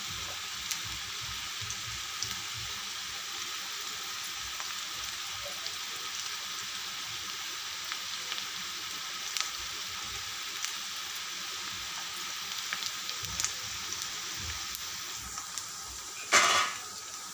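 Onions sautéing in a pan, a quiet steady sizzle with faint stirring and utensil clinks, ending in a brief louder scrape.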